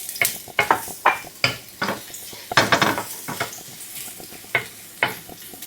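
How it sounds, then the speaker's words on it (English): Finely chopped garlic, three cloves, frying in a pan for egg fried rice, with a soft sizzle under repeated sharp clinks and scrapes of a utensil stirring against the pan, close and fairly loud, no talking. "Fry for 30 seconds so that the garlic can release the fragrance and the flavor."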